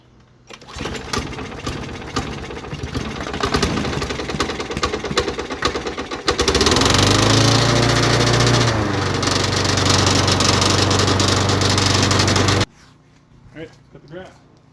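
Lawn mower engine that wouldn't start, running loud and close with its throttle wedged open, rattling steadily, then surging louder midway before cutting off abruptly to near silence.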